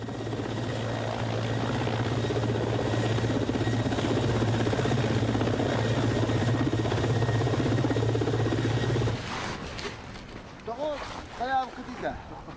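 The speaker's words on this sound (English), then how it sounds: "helicopters managed to land on Liakovsky Island" A helicopter thunders with a loud, steady rotor drone on landing at Liakhovsky Island in Siberian wind, then the noise cuts out and people talk.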